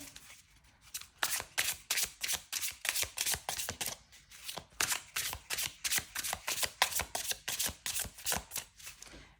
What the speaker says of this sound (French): On mélange bien le jeu.